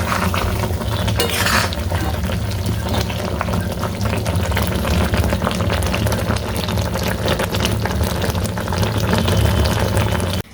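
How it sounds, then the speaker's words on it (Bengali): A soya chunk curry made with coconut milk, cashew and poppy seed paste simmers on low gas, giving a steady bubbling, sizzling hiss that stays close and even throughout. "গ্যাসটাকে একদম লোতে রেখে আমি 5 থেকে 7 মিনিট এটাকে রান্না করে নেব।"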